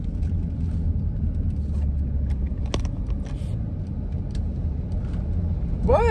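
Steady low rumble of a car being driven on the road, a continuous close engine and road drone with no speech over it.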